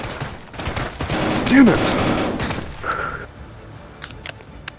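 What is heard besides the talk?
gunfire in a VR shooter video game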